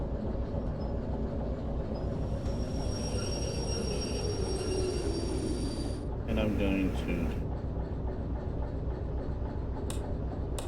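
A train rolls along the track in the railway simulator game Derail Valley, a continuous low rumble with faint high wheel squeal, while someone talks over it.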